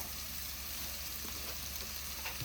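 Spices and salt frying in a pan for an Indian home-cooked meal, a steady soft sizzle with faint crackles and no talking.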